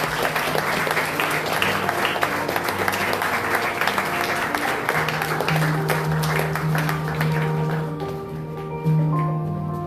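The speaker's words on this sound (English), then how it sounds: "Ladies and gentlemen, we need to clap for them." Audience applause at a National Startup Day felicitation, steady clapping from a crowd filling the hall for the full stretch, with background music tones running underneath.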